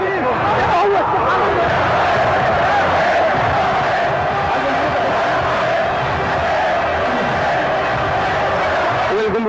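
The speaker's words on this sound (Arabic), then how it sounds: "الجمهور كله بيحيي بركات" A big stadium crowd cheers and chants for the player Barakat, a dense, loud and continuous roar of many voices with no pauses.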